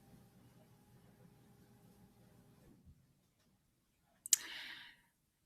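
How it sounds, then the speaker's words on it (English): A single sharp computer mouse click on a Start button, heard alone and close after a stretch of faint background hum, followed by a brief soft hiss. "So I'm going to click Start."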